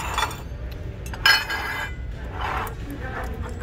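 A small glass box is handled on a thrift store shelf, giving a few light, brief clinks over a steady hum of store background noise.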